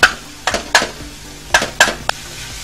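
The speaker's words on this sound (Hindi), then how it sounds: "थोड़ा सा मजीद फ्राई करेंगे और इसमें मक्खन शामिल करेंगे" Chicken mince frying on a tawa with butter: several short, sharp scraping and clattering strokes of a spatula against the hot pan over a faint sizzle, spaced irregularly, close and fairly loud.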